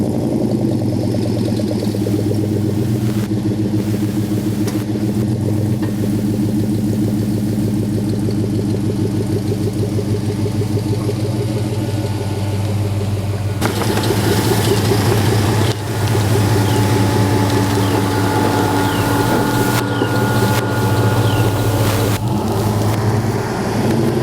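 A car with an aftermarket MagnaFlow exhaust idles steadily and loudly up close for about fourteen seconds, then revs and pulls away with a rising, rougher engine note that continues to the end.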